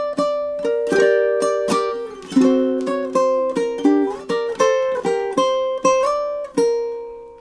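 Ukulele picking a short melodic passage of a song, measures 18 to 20: a dozen or so plucked notes and small chords in a loose, flowing rhythm, each decaying quickly, played clearly and alone.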